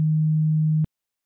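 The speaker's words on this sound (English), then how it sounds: "we're going to load a sine wave" A plain sine wave tone from the Serum software synthesizer holds steady at a low pitch for just under a second, then cuts off abruptly into silence.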